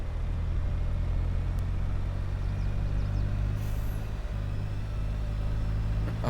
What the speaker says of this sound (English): Let's get the telehandler.